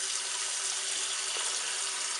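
Steady rush of hot tap water pouring into a sink, a continuous close hiss that stays even throughout.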